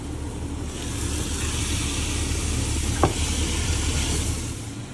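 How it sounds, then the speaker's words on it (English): Glass noodles stir-fry in a hot pan, a continuous close sizzle with the scrape of stirring and one sharp clink of the utensil midway, no voices. "So watch me for another minute stirring and then we'll go to the next step."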